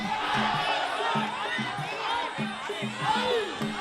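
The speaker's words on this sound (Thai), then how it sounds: "นี่ทีมเชียร์กัมพูชาครับ ลุ้นกันตัวโก่งเลยครับ" Cambodian fan team cheering at a Muay Thai fight, a dense crowd roar with shouts and whoops and a rhythmic ringside music pattern running underneath throughout.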